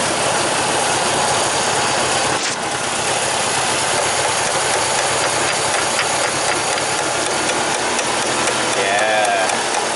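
A 2001 Saturn Coupe engine runs rough in a loud, continuous, close idle, with a steady hissy roar that barely changes throughout.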